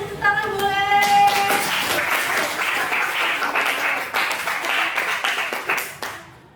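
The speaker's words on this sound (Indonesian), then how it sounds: "Ya, oke, kita tepuk tangan boleh." Hands clap together in a classroom during a teaching practice session, a lively burst of applause that starts over a fading voice and tapers off after about six seconds.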